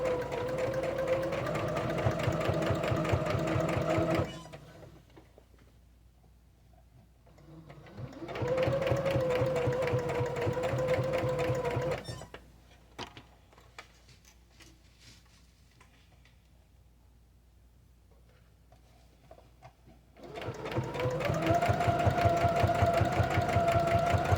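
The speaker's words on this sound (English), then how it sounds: "I'm going to start a few stitches, and then I'm going to back stitch and then go forward again." A domestic sewing machine stitches lined kitchen curtains, running in three steady whirring bursts with back stitching between them and quiet pauses while the fabric is repositioned.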